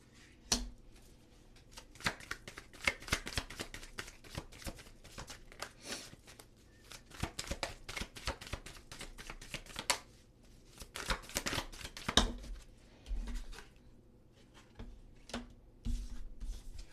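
A tarot deck is shuffled by hand, giving repeated soft riffling and slapping of cards in quick bursts with short pauses. It sounds close but fairly quiet, and no one speaks.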